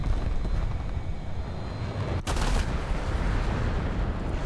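Aircraft guns fire in War Thunder, a dense, loud, continuous roar of rapid gunfire and engine noise, with a brief dropout and a sharp burst partway through.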